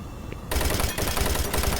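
Gunfire in Doom 3: after a brief quiet moment, a sudden loud burst of rapid automatic fire, close and dense, with two brief gaps between bursts.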